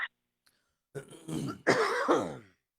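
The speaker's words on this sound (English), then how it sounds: "Hey, don't be coughing that shit over at me." A person coughs and clears their throat up close, a few rough bursts in quick succession after a short quiet pause.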